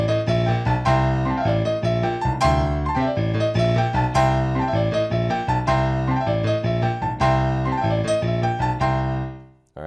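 A blues riff on piano, the right hand playing chords and melodic figures over a repeating left-hand bass riff in a steady, bouncy rhythm, loud and sustained for nearly ten seconds before a sudden stop.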